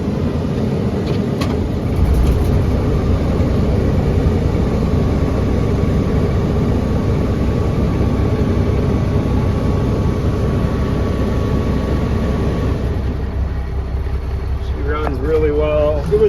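A 1994 Pierce fire engine rumbles steadily at close range, a loud continuous diesel drone with a faint whine above it, settling toward the end as a voice briefly speaks.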